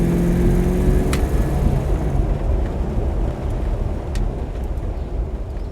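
A project car being driven after ignition and fuel injection work gives off a steady low engine and road rumble throughout, with no one talking.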